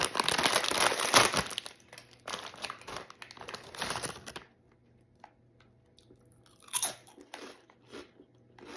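Crunchy fried egg chips from Spain crackling loudly through several bites in dense bursts, then quieter chewing follows with a few sharper crunches.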